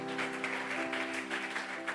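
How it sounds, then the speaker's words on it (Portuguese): A church congregation claps during a worship service, a dense patter of applause over sustained musical tones. "Aplauda mais forte ao Senhor"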